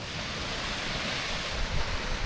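Pacific Ocean surf washing onto a white-sand beach at Kāʻanapali, Maui: a steady, loud, broad roar of breaking waves with some wind rumble, no voices.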